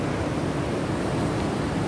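Strong ocean waves surging at New Brighton South beach during high water, a steady, loud, unbroken roar of surf and wash with wind noise, no voices.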